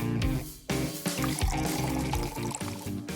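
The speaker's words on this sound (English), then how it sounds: "We'll pour in Sprite instead of water." Sprite soda poured out in a steady liquid stream over busy background music, the flow continuous and fairly close.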